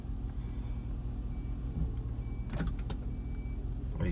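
Range Rover 4.6 HSE driving on the road, heard from inside the cabin as a steady low engine and road hum with a few brief clicks and rattles, fairly quiet and free of talk.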